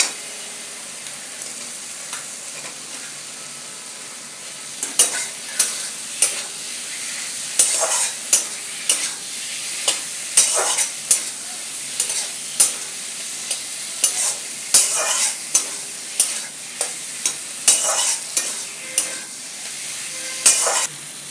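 Potatoes get stirred into fried spice masala in a pan, loud close scraping and clacking strokes of a spoon coming in quick irregular bursts over a soft continuous sizzle, no speech.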